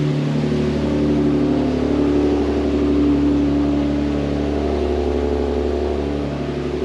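Car engine fitted with an X-Force exhaust, revved at a time attack event: a steady, loud mid-pitched drone that swells slightly and holds, heard alone without talk.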